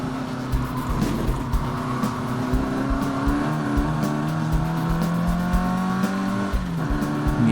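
Racing Mini engine with plenty of low-end torque lapping a circuit, loud and continuous from start to finish, its engine note rising steadily through the gears with brief lifts and climbing pitch as it pulls hard down the straight.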